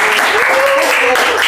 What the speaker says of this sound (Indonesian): tepuk tangan dulu boleh